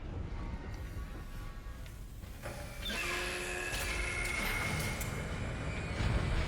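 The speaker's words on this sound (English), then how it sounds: "Replacing damaged tram car. Please stand by." Mechanical whirring and clanking as a damaged tram car is replaced in Dead Space, with a steady machine hum and tonal drone rising midway as heavy machinery moves into place.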